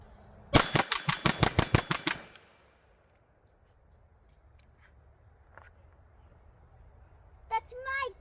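A gun fires a rapid string of about a dozen sharp, loud shots at a family outing to a shooting range, followed by quiet with faint background noises and a short burst of speech at the end.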